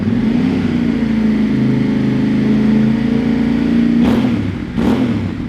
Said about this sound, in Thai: เดี๋ยวมาฟังเสียงท่อคันนี้กันฮะ